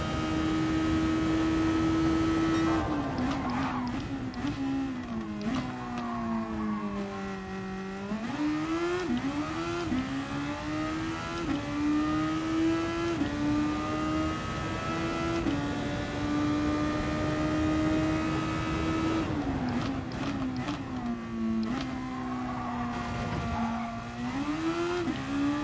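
A Honda race car engine in GT Sport, loud and close throughout, revving up and down in long sweeps with gear shifts and lifts, holding steady high revs in between.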